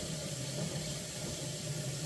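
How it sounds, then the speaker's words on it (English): Hot water runs steadily from a tap into a cup in a kitchen, a continuous close rushing flow with no talk. "Get in a hot cup of water"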